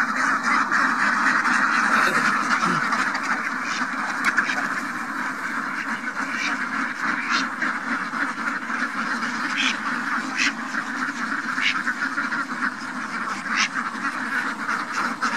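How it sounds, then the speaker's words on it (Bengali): Khaki Campbell ducks on a duck farm, a loud, dense chorus of nasal quacks and honks from many birds close by, repeating continuously with some overlapping calls. "একটা হাসা হাঁস"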